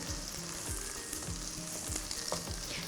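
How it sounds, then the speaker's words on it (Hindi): Roughly chopped onion sautéing in a karahi for chicken white karahi, a steady loud sizzle with rhythmic spatula scrapes and stirs about every half second, no voices. "इसको हम सौते करेंगे"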